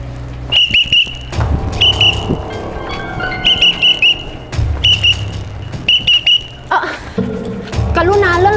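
A whistle is blown in repeated short shrill blasts, loud and close, some in quick pairs, with a street scene, car engine rumble and voices talking underneath.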